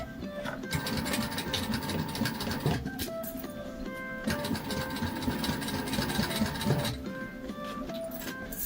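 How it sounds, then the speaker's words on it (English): Sewing machine topstitching along the bottom of a fabric water bottle bag, a mid-level mechanical whirring with brief pauses and restarts, fairly close. "I'm going to sew along the bottom, and that will count as our top stitching"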